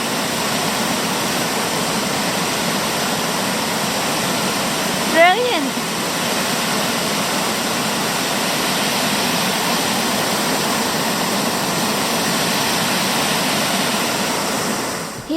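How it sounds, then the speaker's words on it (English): Water rushing over a weir across the River Tyne near East Linton, a loud, steady roaring wash that fills the whole stretch, with a brief spoken word from a nearby man partway through. "What a great weir right across the River Tyne."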